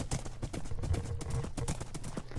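Hooves of a horse in a video game clip-clop at a brisk, fast pace, a quick run of sharp close hoofbeats with no one speaking.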